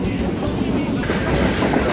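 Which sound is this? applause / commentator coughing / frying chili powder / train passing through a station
train passing through a station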